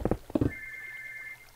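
A telephone ringing in the video game Minecraft, a steady electronic tone lasting about a second after a few quick thuds, quiet with no talk.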